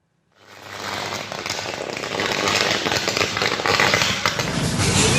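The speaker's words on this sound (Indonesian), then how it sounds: "Ledakan disertai percikan api beberapa kali terjadi saat kabel udara di samping pos polisi di Jalan Waduk Pluit, Penjaringan, Jakarta Utara terbakar" An overhead power cable beside a police post on a Jakarta street burns, giving off a dense, continuous crackling and sputtering of bursts and sparks that starts abruptly and grows louder.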